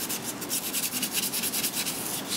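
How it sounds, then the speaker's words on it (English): Sandpaper rubs briskly back and forth across a copper circuit board being cleaned before etching, a fast, even scratching rhythm heard close and fairly quiet with no talking. "sandpaper your copper board to make sure it's clean."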